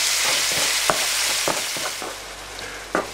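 Minced meat simmers in a pan full of liquid for a pizza soup, giving a steady loud bubbling sizzle with several soft stirring scrapes on top.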